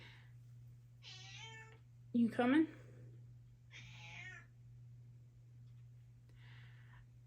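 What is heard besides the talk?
cat meowing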